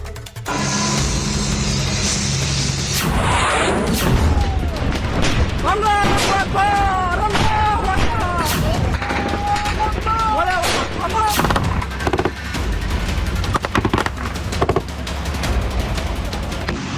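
Gunfire and bombing at the Afghanistan-Pakistan border: sharp shots and heavy booms crack out repeatedly, mixed with shouting voices and dramatic background music.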